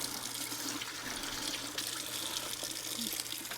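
Running tap water splashes steadily into the dirty-water tank of a wet-dry floor vacuum as it is rinsed in a sink, a continuous close hiss and splatter with no talk.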